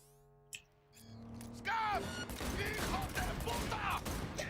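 Gunfire in the video game Cyberpunk 2077, played on PC: a dense, continuous burst of shots with mechanical clatter and game effects, fairly quiet overall and following a brief lead-in of game sounds.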